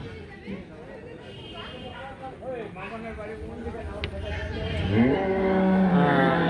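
Cattle bought from villages for Eid at Gabtoli livestock market low and moo in several drawn-out calls, the last one loud and close, over a background of people chattering.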